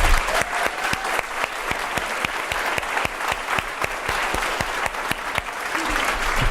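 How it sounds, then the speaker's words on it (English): Audience applause at a convocation ceremony, sustained and even throughout, with many hands clapping and a few sharper individual claps standing out. "Let's give them all an applause."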